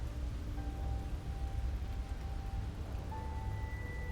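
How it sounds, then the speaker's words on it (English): Steady rain falling in the video game Slay the Princess, a soft continuous hiss with a few faint tonal notes drifting over it. "It wasn't raining before."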